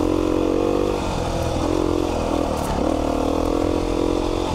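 A Beta 390 RR Race Edition four-stroke dirt bike is ridden at night, its engine giving a steady close drone with slight rises and dips in revs, mixed with wind and trail noise.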